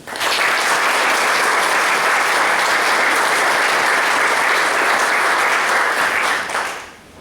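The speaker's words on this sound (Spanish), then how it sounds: "También recibamos con un fuerte aplauso a Juan Eduardo García Huidobro" Loud, sustained applause from an audience at a book launch, a thick continuous wall of clapping close by that holds for several seconds before tapering off at the end.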